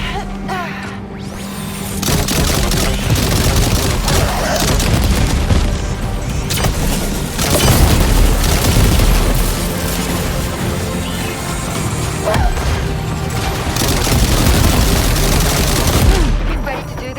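Sustained gunfire and explosive booms fill a Death Stranding 2 battle, dense bursts layered with crashes and a thick music-like bed, loud throughout the whole stretch with faint voices mixed in.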